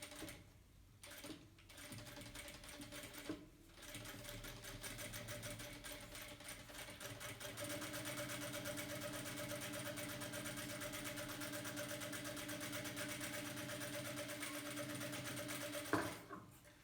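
Sewing machine stitching a two-layer cotton fabric mask, a steady continuous whir running for most of the span with a brief pause near the start and stopping near the end, close and alone without talk.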